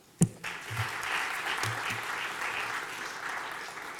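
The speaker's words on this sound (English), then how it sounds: "And one more time, a round of applause for this great panel." A sharp knock opens, then an audience at a talk on economic challenges facing Black men and boys applauds a panel, a moderate, even patter of clapping that holds steady and fairly soft.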